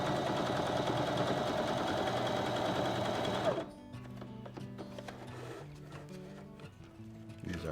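A mechanical sewing machine runs steadily stitching a zigzag, a loud continuous whirring drone that stops abruptly partway, leaving softer clicks and handling noises.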